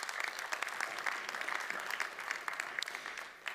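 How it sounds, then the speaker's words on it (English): An audience applauds at a startup talk, a brief burst of fairly quiet, dense clapping that holds steady for a few seconds, heard somewhat at a distance. "Thank you and applause."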